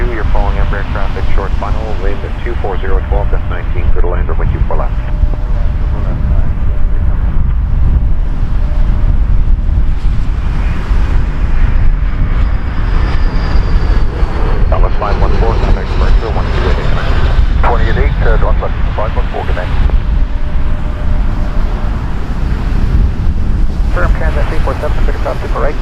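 A jet airliner on short final approach to land at Toronto Pearson Airport, a loud steady roar with wind buffeting the microphone, while radio and voices talk over it throughout.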